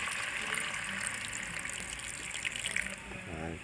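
Water steaming in a pot of brown stew chicken foot, a steady broad hiss and gurgle of hot liquid running throughout, close and moderately loud, with a brief low voice-like murmur near the end.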